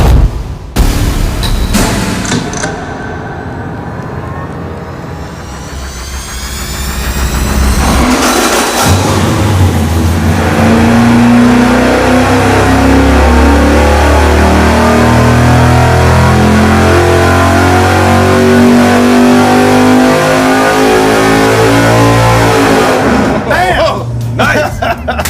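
V8 engine with a solid roller camshaft revving hard on a dyno, rising from a loud rumble to a sustained climbing roar, with voices and crowd chatter around it.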